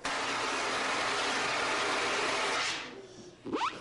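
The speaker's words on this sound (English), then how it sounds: "Igniting main engines 1, 2, and 3." Simulated rocket main engines igniting at launch in a student space program: a loud, steady broadband roar holds for nearly three seconds, then fades, followed by a brief rising whoosh.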